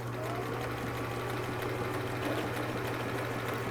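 A sewing machine runs steadily while stitching a stretchy turban hem, producing a constant close mechanical whir with a low hum and no pauses.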